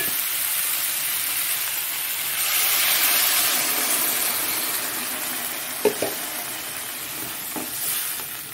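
A fish curry base fries in a pan with a steady, fairly loud sizzling hiss as water is poured in, swelling then easing, with a few sharp utensil knocks near the end and no talking.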